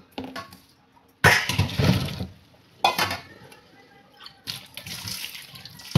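Water running in bursts at a kitchen sink during washing after cooking, with several loud splashing stretches separated by quieter gaps.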